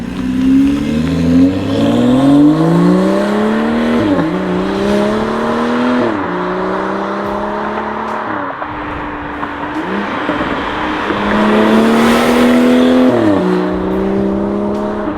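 A tuned BMW X3 35i with upgraded intake and exhaust accelerates hard outside, engine rising loudly through several gears with distinct shift breaks, clear and close with no talking.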